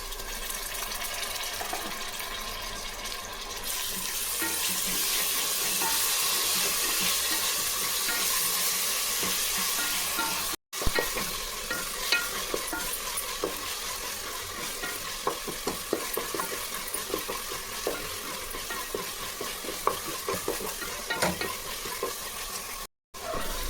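Large chopped tomatoes sautéing in a pan, a continuous loud sizzle with repeated close spatula stirring and scraping strokes throughout, briefly cutting out twice.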